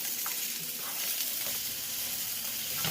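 Carrots and celery stir-frying in a hot pan for shrimp and vegetable noodles, a continuous close crackling sizzle with light scraping of stirring, no talk.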